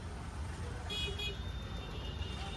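Busy market street traffic in Patan with rickshaws, a low rumble of engines and a short car horn toot near the middle, fairly distant and faint, with a voice talking over it.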